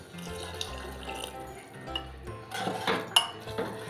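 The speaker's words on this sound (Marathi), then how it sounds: "त्यामुळे मी थोडं पाणी घालते" Water goes into a metal pot of spicy corn curry cooked in a pressure cooker, with close clinks and clatter of the pot and utensils and a brief watery splash near the end.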